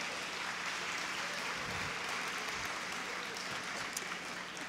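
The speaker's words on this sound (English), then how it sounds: "Let's give them a round of applause." Steady, dense applause from an audience at a Parkinson's expo session, fairly even throughout with a faint voice underneath.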